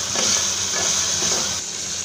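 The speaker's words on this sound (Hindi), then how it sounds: "अदरक की कच्ची स्मेल जाने तक इसको अच्छे से भूनेंगे।" Ginger and spices frying for misal pav, a steady close sizzle and hiss with light stirring texture throughout, no voices.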